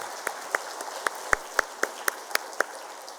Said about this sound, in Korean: 하나님께 영광의 박수 줍시다.